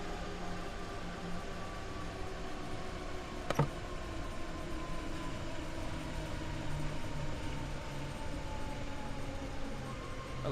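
A train rumbles along steadily in the railway simulator Train Sim World 3, a continuous dense mechanical roar of wheels and engine at constant loudness, with one brief clank.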